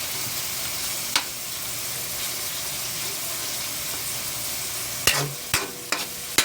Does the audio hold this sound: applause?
no